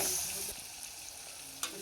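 Onions frying and softening in a pan, a steady soft sizzle running throughout with a brief louder stir or scrape near the end, no voices.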